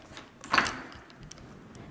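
A house door pushed shut, one moderately loud closing thud with a brief rattle near the middle, followed by quiet room tone.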